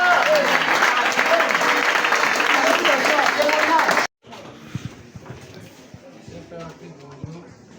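A church congregation applauding the Lord, a dense, loud burst of clapping and cheering that stops abruptly about halfway through, followed by quieter room noise and scattered sounds.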